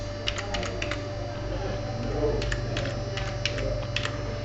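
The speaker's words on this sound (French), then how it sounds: "je tape à l'intérieur le texte" Typing on a computer keyboard, with light clicky keystrokes in two short bursts over a constant electrical hum, close and with no talk.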